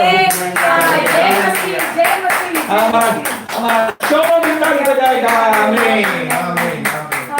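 A church congregation claps after a prayer, with steady rhythmic group clapping sustained throughout alongside music or voices, loud and close.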